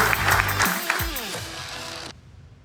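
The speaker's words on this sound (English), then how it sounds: "Please give a round of applause, everyone." Audience applause at an investment conference award felicitation, a round of clapping that runs under musical tones and then stops sharply, leaving near silence.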